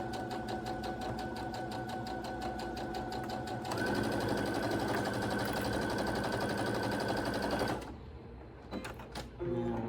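A sewing machine stitches fabric with interfacing, its fast steady mechanical whir and rapid needle ticks running continuously, picking up speed midway, then stopping with a few faint clicks of handling.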